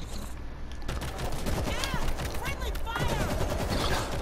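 Rapid bursts of video game gunfire while hunting a bull, a steady chattering stream of sharp shots, fairly quiet and close, with clanking game effects and a voice speaking over it.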